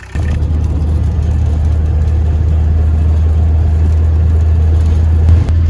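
A VW T3 van engine, just fitted with a replacement starter motor, catches almost instantly and settles into a loud, steady, rumbling idle for several seconds, with no talking.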